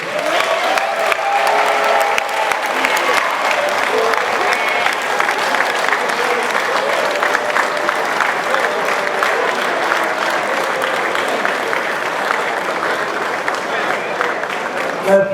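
Sustained applause from a large crowd at Liberia's 171st Independence Day celebration, greeting the national orator after an oration; steady, dense clapping with some cheering, loud and continuous throughout.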